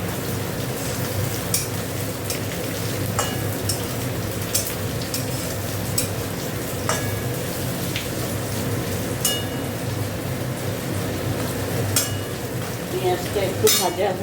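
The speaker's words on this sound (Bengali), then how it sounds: "পেঁয়াজটা একটু ভাজা হোক" Chopped onion with garlic sizzles steadily in a pan as it fries, with soft crackling and occasional stirring clicks, fairly close and with no talking.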